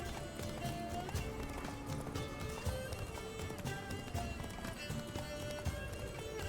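Rhythmic hoofbeats of a galloping horse in The Witcher 3: Blood and Wine, steady and close, set against a dense backdrop of music and game effects.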